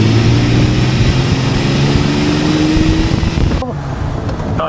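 A Ferrari 365 GTB/4 Daytona runs along an open road after its engine and transaxle have been warmed up, giving a loud, steady engine drone with low humming tones that briefly shifts near the end.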